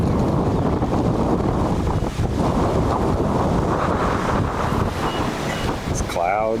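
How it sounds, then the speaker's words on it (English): Strong wind roars across an open disc golf course in Coppell, Texas, a steady, loud rumbling buffet on the microphone that never lets up, with a brief voice near the end. "This wind is nuts."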